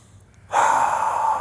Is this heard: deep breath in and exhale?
yes